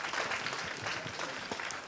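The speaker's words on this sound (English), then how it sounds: "You start that slow clap, other people join in." A youth summit audience applauds in a continuous wash of clapping that builds from scattered claps into fuller applause, heard from within the hall.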